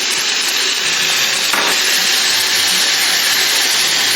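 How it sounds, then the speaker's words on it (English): Fresh beef browning undisturbed in a hot pan for papoutsakia, a loud steady sizzle and crackle that fills the space, with one brief clatter partway through and no talking. "quickly add the meat to brown it. So we put it inside the pan and don't stir it much, just let it sit"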